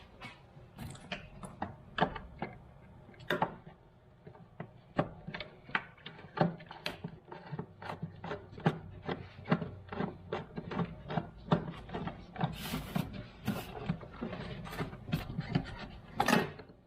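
Screwdriver working a crusty Phillips head screw loose on a Mazda Miata during an AC delete, a string of small, irregular clicks and ratcheting scrapes spread over roughly seventeen seconds, close and fairly quiet.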